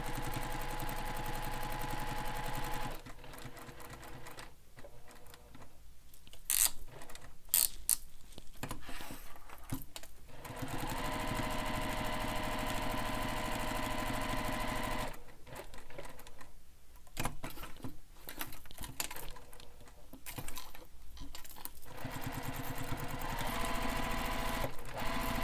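A sewing machine stitches a bag in rapid bursts, running steadily for a few seconds, pausing briefly, then stitching again, close and fairly loud.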